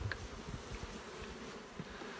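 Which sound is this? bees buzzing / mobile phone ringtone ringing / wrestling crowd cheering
bees buzzing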